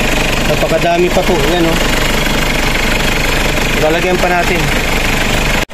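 The 4M40 engine of a second-generation Mitsubishi Pajero 4x4 idles with a loud, steady, knocking diesel clatter during a radiator flush, running under close talking.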